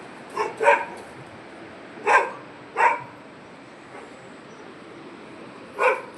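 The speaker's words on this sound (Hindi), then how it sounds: "नीचे से कुत्ता के भौंकने से" A dog barking from below near village fields, several short barks in clusters, a pair at first, another pair in the middle and one more at the end, moderately distant with quiet in between.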